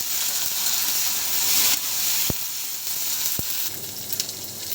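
Onions sizzling in a frying pan with oil and garlic for pulao, a steady close hiss and crackle with a couple of sharp metallic clicks from stirring.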